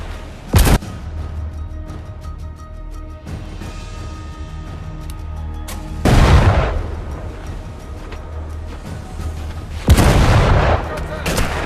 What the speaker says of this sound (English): The gun began to fire.